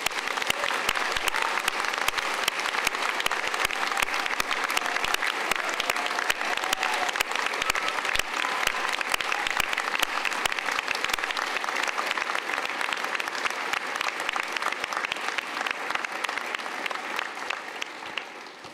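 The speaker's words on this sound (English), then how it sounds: "round of applause" Sustained audience applause for Open University graduates at a Peterborough degree ceremony, steady dense clapping from a large crowd that continues evenly throughout and tapers slightly at the end.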